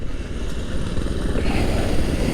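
A Honda Trail 125 motorcycle pulls away in second gear on a neighbourhood trail ride, its engine putting out a steady, close, throbbing low drone that builds slightly.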